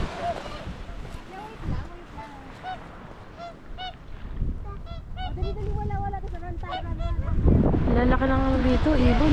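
Geese honk loudly and repeatedly on a seashore in Iceland, with several birds calling close by and overlapping. The honking grows denser and louder toward the end, and people talk in the background.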